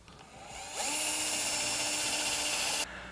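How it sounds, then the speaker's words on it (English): Power drill boring a hole in a wall surface for a Hunter Douglas Duette cord tensioner bracket: a short high-pitched whine spins up, holds steady for about two seconds, then stops, close and clear. "drill at that location"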